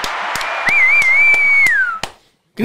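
Hand clapping in a podcast studio: about seven sharp, evenly spaced claps, close and loud, with a high whistle-like tone sliding over a steady background din in the middle.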